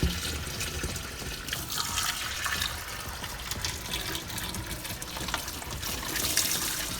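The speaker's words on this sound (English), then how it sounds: "I'm going to start filling it up with water" Tap water runs steadily into a container holding two bone-dry blocks of clay, a continuous close splashing trickle and gush that holds an even level throughout, with no voices.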